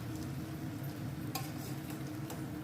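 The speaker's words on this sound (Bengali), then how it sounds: "এখন হালকা হাতে একটু ভালো করে সম্পূর্ণটাকে আমি মিক্স করে নিচ্ছি" A sago pulao with food colour is gently stirred in a pan over a low, steady sizzle, with a few light spoon scrapes against the metal.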